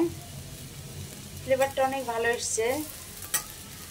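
Fritters frying in oil as they are flipped, a low steady sizzle with a few utensil taps, partly covered by a voice talking midway through.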